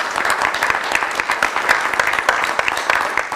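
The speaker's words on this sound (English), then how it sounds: "Let's give them a round of applause." Round of applause for a team at a Waynesville, Missouri city council meeting, a lively, continuous patter of clapping from a roomful of people, fairly close and loud throughout.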